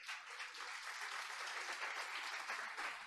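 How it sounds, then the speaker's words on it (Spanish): A church congregation claps together during a Sunday worship service, a steady, dense round of applause filling the room at an even level throughout. "Denle un aplauso al Señor por eso."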